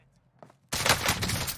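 Rapid burst of gunfire striking the player in an online shooter game, erupting loud and dense after near-silence and a faint click, with several quick overlapping shots.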